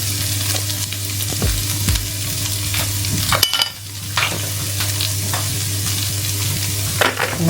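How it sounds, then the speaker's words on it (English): Spices and seasoning, including garam masala and all-purpose seasoning, stirred in a sizzling pan for a vegan dish, with steady frying hiss under repeated scraping stir strokes, close and fairly loud with no talk. "and then give that a stir."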